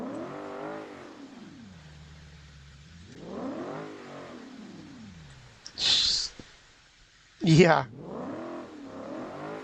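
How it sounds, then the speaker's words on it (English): A truck's engine revs up and down in long, wavering sweeps as its tires spin for grip in the BeamNG driving game, with two short harsh screeching bursts near the end and a brief voice. "Tires are spinning. Trying to get grip."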